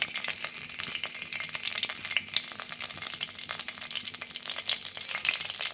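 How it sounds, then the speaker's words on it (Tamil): Torn dried red chillies fry in a small amount of oil with a crackly, popping sizzle and a rapid scatter of spits over a steady hiss, heard up close with no voices. "சிறிதளவு எண்ணெய் ஊற்றிட்டு அப்புறம் கொஞ்சம் காஞ்ச மிளகா கிள்ளி வச்ச காஞ்ச மிளகாவை போடணும்."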